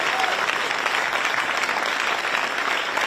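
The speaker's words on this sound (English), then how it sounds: "Give them a big round of applause" Audience at a press event on a deal to build a stadium at the RFK site applauding, a full, steady wash of many hands clapping with some crowd murmur beneath.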